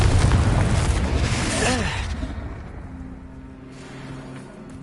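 A Confringo fire spell blasting in Hogwarts Legacy: a loud, roaring explosive burst that rumbles and decays over a few seconds, with a voice heard at the same time.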